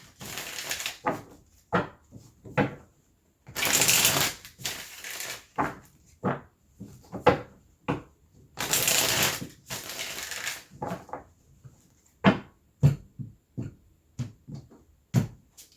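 A deck of tarot cards is shuffled repeatedly up close: sharp taps and slaps between two longer riffling bursts, in an uneven handling rhythm.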